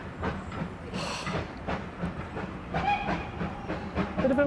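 A British steam locomotive chuffing and rumbling nearby, with rhythmic clatter, hiss and brief whistle-like tones over a steady mechanical roar.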